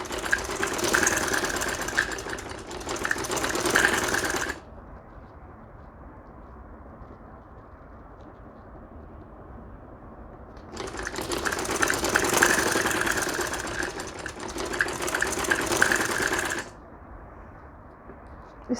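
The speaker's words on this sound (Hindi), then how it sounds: "आगे की स्टिचिंग करें।" A sewing machine runs in two long stitching bursts on a ladies shirt with dori piping, each a steady, loud mechanical whir of several seconds, separated by a quieter pause with faint background hum.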